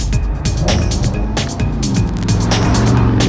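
A BMW M550i V8 engine rumbles steadily at close range, its low harmonic drone shifting in pitch as it revs and pulls, loud and continuous with no talking.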